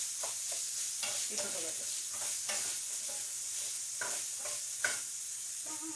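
Spaghetti sauce sizzles steadily in a hot pan while a spoon scrapes and stirs through it in repeated strokes, close and clear, with a brief spoken remark over the cooking.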